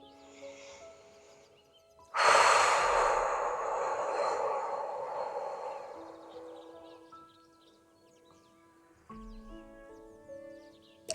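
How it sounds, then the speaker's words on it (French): A long, deep breath during a seated chair yoga stretch swells up and slowly fades, heard over soft, steady background music. "On respire bien."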